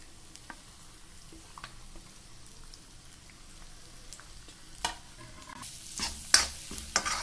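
Leftover masala fries in hot oil for a spicy brinjal and dried bombil dish, a faint crackle and sizzle that grows louder near the end, with occasional spoon clicks and stirring, and no voices.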